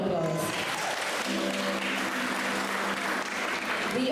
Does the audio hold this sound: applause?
yes